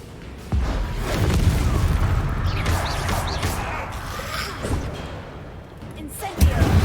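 Incendio fire spell cast in Hogwarts Legacy, a sudden booming burst followed by crackling, rumbling blasts and a late heavy thump, with a voice faintly underneath.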